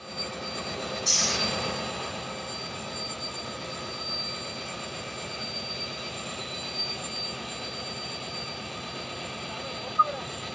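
A Tambaram–Kochuveli summer special AC express train rumbles steadily in the distance at Kottarakkara railway station, with a low, continuous drone and a brief burst of hiss near the start.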